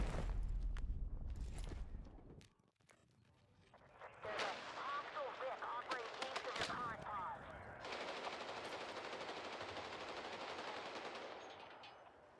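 Rapid bursts of gunfire from the video game Battlefield 6 crackle through a firefight, with dense automatic fire and a long sustained stretch, while a player talks over the action.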